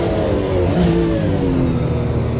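Porsche Cup race car engine loud and close at Long Beach street circuit, a sustained roar with shifting pitch as the car brakes hard and downshifts into a corner, no talking.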